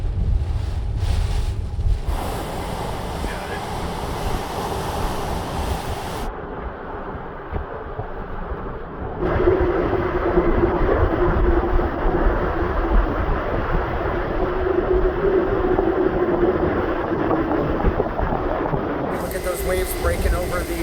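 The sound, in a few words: Hurricane Ian wind and waves pounding Punta Gorda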